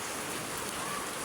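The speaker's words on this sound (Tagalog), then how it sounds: "Hindi tayo makalabas kasi maulan." Rain falls steadily as a dense, even hiss of drops on surfaces, close and continuous, with no voices.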